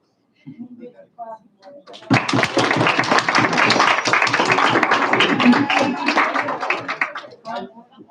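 Audience applause fills a senate meeting room, with brief talk first and then a sustained burst of many hands clapping for about five seconds before tapering off into scattered claps.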